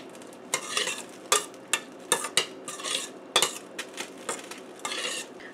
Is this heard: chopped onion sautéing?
yes